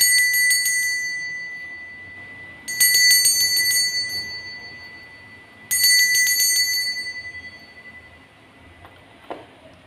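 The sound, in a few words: bell ringing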